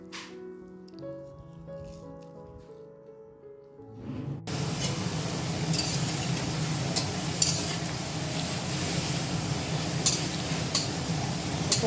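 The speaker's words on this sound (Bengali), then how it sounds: "মাংসর আলু ভাজা হচ্ছে বন্ধুরা" Potatoes for a meat curry fry in a pan, a steady close sizzle and stirring clatter taking over after a few seconds of music.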